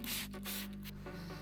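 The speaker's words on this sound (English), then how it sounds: "For this I was using the citrus pre-wash to spray around the lower third of the car." Citrus pre-wash is sprayed onto the lower third of a car's bodywork in several close, hissing bursts separated by short pauses.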